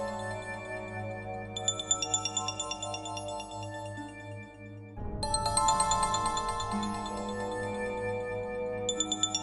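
A mobile phone rings with a tonal electronic ringtone that repeats its bright, tinkling melody for several seconds, while a sustained music bed runs underneath. Nobody speaks.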